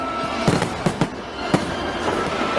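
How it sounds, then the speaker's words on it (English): Fireworks bursting at an outdoor spot, several sharp loud cracks and pops scattered irregularly over a steady background wash, with no talking. "Fireworks go off here."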